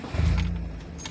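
Car keys jangling after switching off a Nissan engine under fuel system repair, a short metallic rattle over a low steady rumble, close and fairly loud with no talking.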